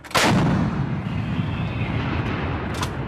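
A U.S. Marine M777 towed 155mm howitzer fires a live round: one sharp, very loud blast, then a long rolling rumble and echo that carries on to the end.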